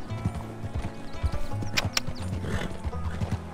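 Horse hooves clip-clop in an uneven rhythm on an open-world Western trail in Red Dead Redemption 2, with a neigh or whinny breaking through, heard at moderate volume with no talk over it.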